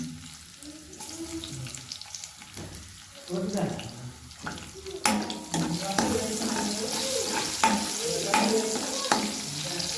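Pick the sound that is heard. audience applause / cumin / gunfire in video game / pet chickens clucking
cumin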